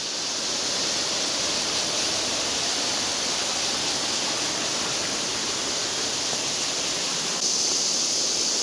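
Clear mountain stream rushing steadily near the upstream bank, a dense continuous wash of water with no break or voices.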